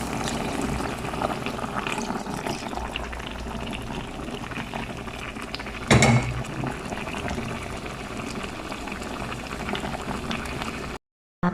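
Coconut milk simmering with tambakol tuna and pechay in a pot, a steady bubbling boil throughout with a brief louder clatter midway and a short cut near the end.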